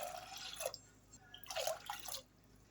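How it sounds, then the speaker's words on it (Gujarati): Water is poured into a pressure cooker holding soaked toor and masoor dal in two short, splashy gushes, fairly faint and close, separated by a brief pause. "તો આપણે પાણી નાખી દઈશું"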